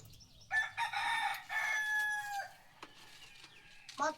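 A rooster crows loudly and close by on a farm, and a few clucks and brief bird calls follow.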